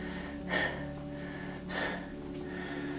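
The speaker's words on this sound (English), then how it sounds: "Sorry, a bit heavy breathing there." A man breathes heavily after doing pull-ups, with two loud, close, rasping gasps about a second apart, then quieter panting breaths in between.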